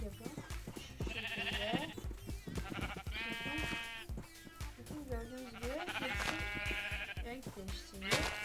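Several Minecraft sheep bleat repeatedly in overlapping calls, loud and close, over clicking game sounds and a faint voice.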